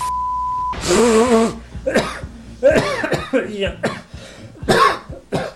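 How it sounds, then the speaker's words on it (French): Several harsh coughs and throat-clearing bursts in a row, close and loud, following a steady beep at the start. "Qu'est-ce que tu tousses à 3h de l'après-midi là?"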